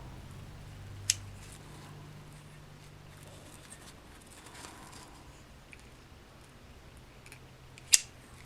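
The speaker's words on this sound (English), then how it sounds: "And then I'm going to cut these ends off." Scissors snip the loose yarn ends off a crocheted chandelier ornament tassel, two sharp, quick cuts several seconds apart in an otherwise quiet room.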